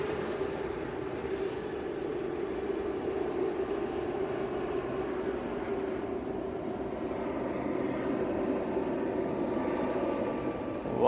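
An Emirates Airbus A380 airliner takes off in a steady, distant-sounding low engine roar that holds evenly throughout and swells slightly at the very end, with no voices present.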